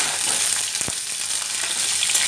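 Drumstick vegetable stalks stirred in hot oil, a steady broadband sizzle throughout with a brief scraping stir near the start, close and fairly loud, no voices.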